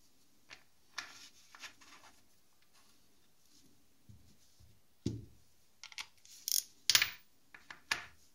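Sharp metallic clicks and ratcheting taps sound in scattered bursts as screws are tightened on a Honda CBF 1000 motorcycle engine during reassembly of the crankcase cover and valve cover, close and alone amid quiet gaps.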